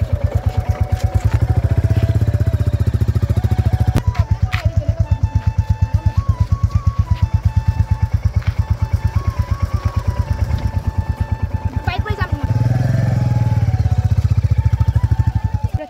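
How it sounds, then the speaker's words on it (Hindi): A motorbike ridden on the road, its engine running steadily and loud and close throughout, with a pulsing rhythm and a few revs and clatters along the way. "मैं बाइक चलाऊंगी अभी"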